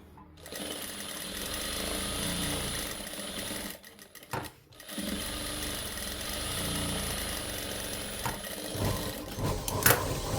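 Sewing machine stitching the collar of a kurti, running in a steady rapid hum for most of the clip, briefly stopping twice near the middle before resuming at the same close, even pace.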